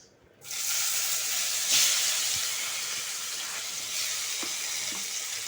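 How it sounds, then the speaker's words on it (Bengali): Amla, Indian gooseberries, hit hot mustard oil and burst into a loud, sudden hissing sizzle that holds steady, with a couple of faint clinks near the end. "সরষের তেলটা গরম হয়ে গেছে আর আচার করতে সরষের তেলই লাগবে"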